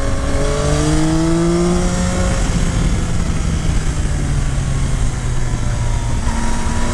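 A 2022 Yamaha Tracer 9 GT motorcycle engine revving high on country roads, a loud continuous whine with rising and falling tones over heavy wind rush, steady and close throughout with no voices.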